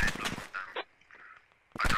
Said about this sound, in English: he's firing on the bunker right now